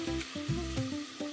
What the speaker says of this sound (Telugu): ఆ మెంతికూర ఆకులు ఫ్రై అయిన తర్వాత ఆనియన్ పేస్ట్ వేసేసుకుందాం